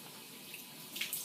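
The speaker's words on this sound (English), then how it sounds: "we perform soap and water hand hygiene" Tap water runs into a sink for soap-and-water hand washing in a clinical setting before a sterile PICC dressing change, a faint steady flow with a few brief splashes near the end.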